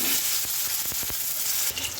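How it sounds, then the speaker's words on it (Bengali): Pointed gourd (potol) pieces frying in hot oil, giving a steady close sizzle and crackle with a few sharp pops throughout, no one speaking. "এবার 2-4টা পটল দিয়ে দিলাম এর ভিতরে, পটলটাও ভেজে নিচ্ছি।"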